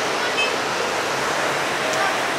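Waterfalls rush steadily near a hotel on the Hemkunt Sahib pilgrimage route in the Himalayan mountains, a broad continuous roar of falling water heard from a short distance, with no break through the brief stretch.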